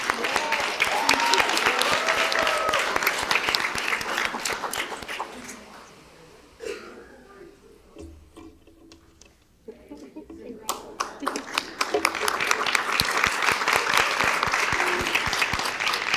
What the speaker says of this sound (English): Please give all of our recognees another round of applause.